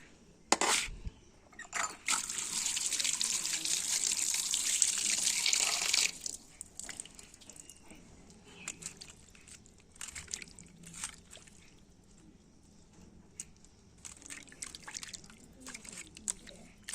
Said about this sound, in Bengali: এখন এগুলো জল দিয়ে ভালো করে পরিষ্কার করে ধুয়ে নেব